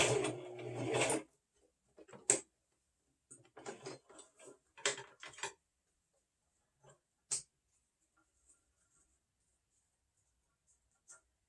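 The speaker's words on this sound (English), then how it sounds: "Make sure you don't sew it where you don't want to." A sewing machine stitches a fabric face mask in short bursts: one longer whir first, then several brief clattering runs separated by silence, with a few faint ticks near the end.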